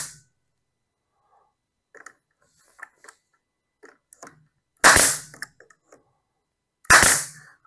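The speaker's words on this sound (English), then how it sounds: "I will shoot 4 18-gauge nails." A nail gun drives 18-gauge nails into cabinet side panels, two sharp loud pneumatic bangs a couple of seconds apart, following faint clicks and handling of the parts, close up with no talking.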